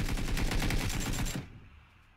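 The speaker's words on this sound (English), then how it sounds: "They're shooting from across." Video game gunfire from across a street, heard as a rapid volley of close, loud repeated shots that ends abruptly, followed by a fading tail.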